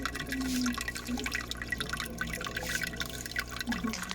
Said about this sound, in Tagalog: Tulo na siya sa loob.